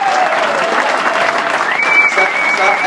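An audience at a Montreal testimony event applauds with dense, sustained clapping, and a voice can be heard faintly over it.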